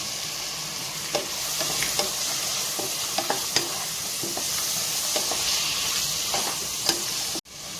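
Chopped tomatoes frying with onions in a hot pan, with a continuous close sizzle broken by repeated stirring scrapes and clicks until a sudden cut near the end.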